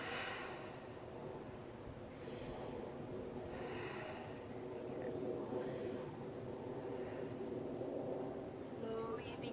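A slow, deep exhaling breath during a yoga session, a long, soft, airy rush of air heard close, with breathy snort-like sounds in the background.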